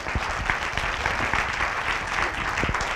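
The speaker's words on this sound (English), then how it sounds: "Round of applause for Lee." An audience at a mental health symposium applauds continuously for Lee, a steady, moderately loud patter of many hands clapping with a little crowd murmur underneath.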